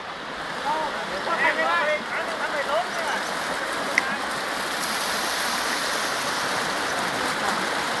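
Strong water rushes loudly and steadily at Huai Yai dam in Thailand as a constant broad roar, with voices briefly heard over it early on.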